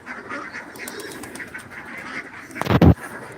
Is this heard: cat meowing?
no